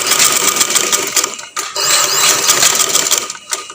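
Sewing machine stitching fabric in a home tailoring lesson, a loud close-up whirring run of rapid stitches broken by a brief pause around mid-clip, then continuing and tapering off.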